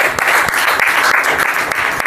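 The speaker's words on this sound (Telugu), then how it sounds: "చప్పట్లు కొట్టలు దగ్గరగా" A church congregation claps together during a Sunday worship service, a dense, steady burst of clapping that stays loud and close for the whole stretch with no voices standing out.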